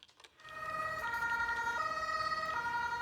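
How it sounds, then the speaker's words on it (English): Electronic wailing sirens in the video game Welcome, Dear Human, a steady layered tone that steps between pitches and starts abruptly after a brief quiet moment, loud and continuous with no talk. "Okay, now the sirens are playing."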